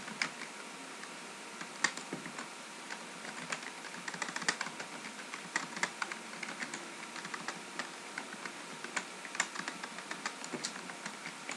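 Fingers type on a computer keyboard at a steady pace, a close run of quiet, crisp key clicks with no one speaking.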